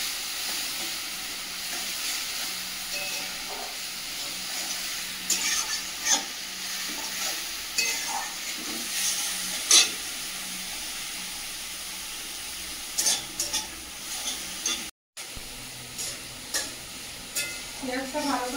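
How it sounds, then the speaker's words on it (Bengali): Chopped onion sizzles and fries steadily in a hot pan while a spatula stirs and scrapes at intervals, a continuous close hiss with occasional clinks. "পেঁয়াজটা ভালো করে ভেজে নিয়েছি"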